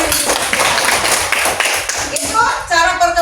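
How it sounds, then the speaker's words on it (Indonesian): Children in a classroom applaud briefly, a burst of scattered clapping and tapping, with voices mixed in near the end. "Bagus, tepuk tangan untuk Ara."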